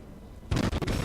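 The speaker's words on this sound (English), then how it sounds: "Second broadside sets it on fire." A cruiser's broadside cannon fire in World of Warships, a sudden loud blast after a quiet half second, followed by a short cluster of rolling booms.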